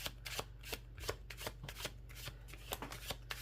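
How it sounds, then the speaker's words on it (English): Tarot cards are shuffled close up in a quick run of soft, crisp riffling flicks repeated evenly, with a low hum beneath and no talking. "like as I'm shuffling the cards"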